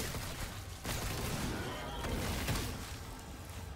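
Sustained automatic assault rifle fire in The Callisto Protocol, a dense, continuous stream of close gunshots with a few sharper bursts standing out across the whole stretch, steady and loud with no gaps.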